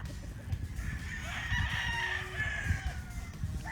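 A Golden Boy brood stag rooster gives one drawn-out crow, near and fairly loud, over scratchy rustling and faint background farm noise.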